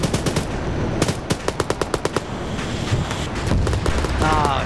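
Video game gunfire from several weapons, with a fast, evenly spaced string of about ten sharp shots in the middle over a constant roar of heavier firing and rumble, loud and close, with no clear talk.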